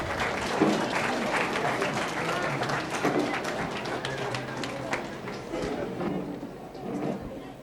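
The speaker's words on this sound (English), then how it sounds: "Big round of applause, please." Audience applause at a community gathering, steady dense clapping sustained throughout with crowd murmur and voices mixed in.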